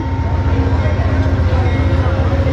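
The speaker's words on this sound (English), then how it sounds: "Oh crap, I hear a train." Steady low rumble of an Amtrak train rolling past nearby at Harpers Ferry, a continuous loud drone with rhythmic clatter underneath.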